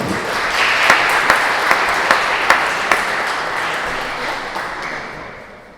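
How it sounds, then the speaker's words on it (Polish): An audience applauds the winning youth fire brigade team of a volunteer fire station at a municipal safety day gala, steady dense clapping with a few sharper claps standing out, fading slightly toward the end. "Jeszcze raz wielkie brawa."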